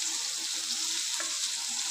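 Oil sizzles and fries steadily in a tempering of mustard seeds, cumin, onion and tomato, a loud, continuous hiss close by with faint stirring clicks and no voices.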